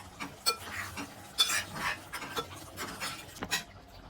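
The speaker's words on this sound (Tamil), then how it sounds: "சிக்கனை மிக்ஸ் பண்ணிக்கலாம்." A spoon stirs chicken gravy in a cooking pot, giving a run of short scraping and rubbing strokes with irregular rhythm, close and moderately loud.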